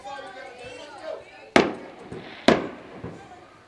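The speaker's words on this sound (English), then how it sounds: "That was fireworks from baseball." Fireworks go off near a high school softball game on senior night, with two sharp, loud bangs about a second apart, each trailing off, over crowd noise and a voice talking.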